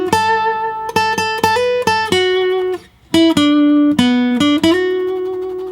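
Acoustic guitar playing a solo line from a song: clear single picked notes and slides in two phrases split by a brief pause, loud and close without any voice.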